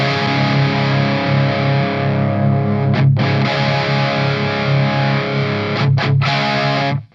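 An electric guitar plays through a Marshall 1959HW Super Lead 100W tube amp, giving a loud, close, heavily distorted sustained tone with brief choppy breaks near the middle and end before it cuts off.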